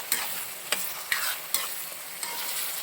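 Chopped tomatoes fry in a pan for a pork curry, with a steady close sizzle and several sharp scraping stirs at regular intervals, no talking.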